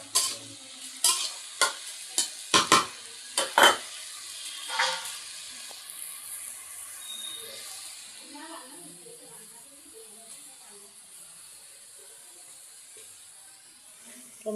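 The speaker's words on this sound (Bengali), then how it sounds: "এদিকে আমি কালি ভাজা চুলায় দিয়ে দিচ্ছি" Food is frying in a pan on a home stove: several sharp clatters of stirring at the start, then a steady soft sizzle continuing alone.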